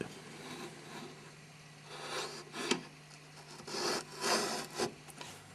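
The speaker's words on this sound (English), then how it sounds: "Marking it out with the mortise gauge." A mortise gauge marking out a timber door rail by hand, giving soft, close scratchy rubs and scrapes in short irregular strokes over a faint steady hum.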